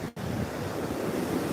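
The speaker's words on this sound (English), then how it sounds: "It's so beautiful to live on the ocean." Ocean waves wash onto the beach at Jupiter Island in a steady, close, rushing roar mixed with wind buffeting the microphone, with no voices.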